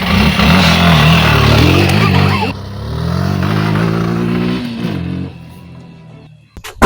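A motorcycle engine runs loud and close, a steady drone that drops in pitch partway through, then fades away, ending with a brief clatter.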